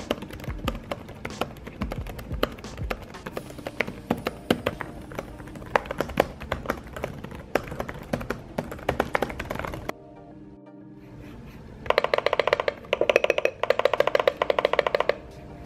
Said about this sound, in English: let me give you guys a quick typing test